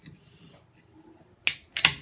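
A beer can is cracked open, two sharp bursts in quick succession near the end, a snap followed by a short fizzing hiss, close and clear after a quiet lead-in.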